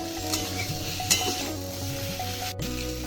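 Taro being stir-fried with whole green chillies in a pan, a steady close sizzle with a few clinks and scrapes of the spatula over a constant low hum.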